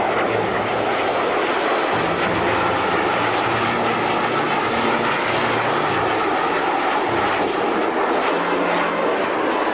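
A B-24 bomber drones loudly through the air on its approach to Norwich Airport in England, its piston engines giving a dense, continuous roar with a pulsing low hum and no voices.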